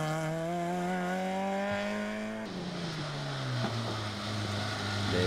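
A rally car on a Rallye Maspalomas stage approaches with a rising engine whine, then rushes past, its pitch dropping sharply as it recedes, followed by gravelly road noise and wind.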